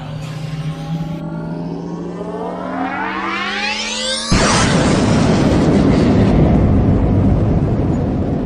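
A rising whoosh climbs steadily for about four seconds, then a loud explosion bursts and its roaring rumble sustains to the end, a big cinematic blast effect.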